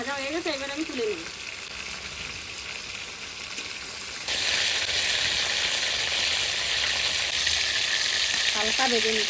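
Fish frying in a wok gives a steady hiss that jumps to a louder, brighter sizzle midway as more oil spatters, held close and continuous, with brief speech at the start and near the end.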